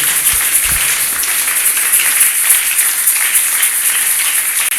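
A church congregation applauds in praise of the Lord, a dense, sustained wash of clapping that is loud and fills the room.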